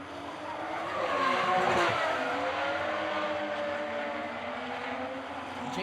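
Drift cars battle at a street drift event, with engines roaring and tires squealing continuously as the cars slide past at a moderate distance.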